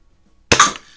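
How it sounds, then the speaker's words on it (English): A single sharp report from a Red Ryder BB carbine fired at a shotgun shell cuts in after half a second of near silence, followed by a short fading ring. "I was shooting at that green shotgun shell on the right there."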